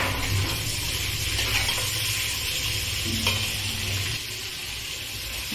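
Chopped vegetables hit a hot pan of mixed fried rice with Kashmiri chili powder, giving a close, constant sizzle with scraping stirring strokes throughout.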